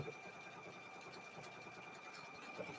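A domestic sewing machine stitches a quilt square for a cow quilt, a steady, even mechanical whir running close and continuous throughout, with a faint voice murmuring low underneath.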